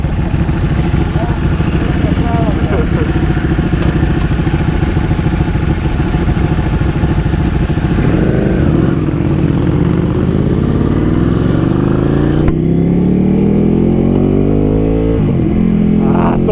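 A Ducati Panigale 1299 S Anniversario or V4 Panigale Speciale motorcycle engine revs loud and close, a dense continuous growl that rises in pitch toward the end.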